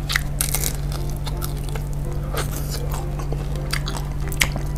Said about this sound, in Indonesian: Wah gila, crunchy banget, sumpah.